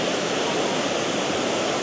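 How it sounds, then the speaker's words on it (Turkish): Busra waterfall in Cambodia, the tallest and most forceful of its three tiers, roars as a steady, loud, broadband rush of falling water with no pauses and no voices. "Busra şelalesi buymuş arkadaşlar."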